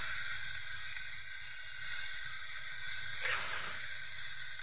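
Shrimp sautéed with bitter gourd and shrimp paste sizzling steadily in a hot pan, a bright continuous hiss that surges briefly midway as the food is stirred, close and with no talk.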